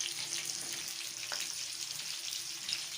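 Street-style pan fry with green chillies, food frying in a pan with a quiet, steady hiss and sizzle and faint crackles throughout.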